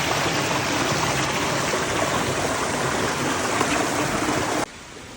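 A Lake District stream swollen after rain rushes in a broad, steady, close roar of flowing water that cuts off abruptly near the end.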